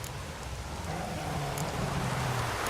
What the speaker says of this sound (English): I've not managed a storm that fine for ages.